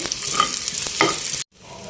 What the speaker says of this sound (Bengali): আম ডালই রান্না করছি আজকে